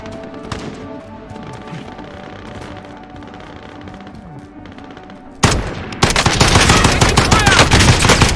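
Rapid automatic gunfire in the Warzone battle royale game, bursting loud and continuous after a stretch of quieter game sounds, with dense overlapping shots filling the end of the clip.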